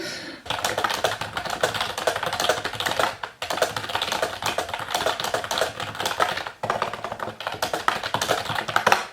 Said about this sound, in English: Just keyboard mash.